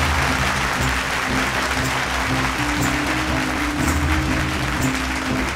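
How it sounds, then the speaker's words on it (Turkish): Audience applause for a company chairman at a cosmetics company event, a dense continuous wash of clapping with steady loudness throughout, accompanied by sustained music tones underneath. "Şimdi Sancaktar Kozmetiğin Yönetim Kurulu Başkanı Kerem Sancaktar'ı alkışlıyoruz"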